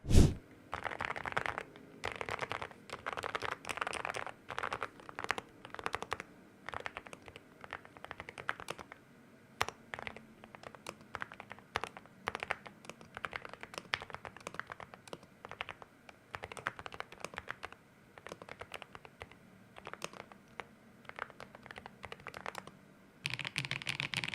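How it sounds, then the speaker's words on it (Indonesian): Computer keyboard keys clatter in quick irregular bursts and pauses, close and crisp, recorded through a Fifine K688 microphone with no voices present. "saya akan tes beberapa suara keyboard"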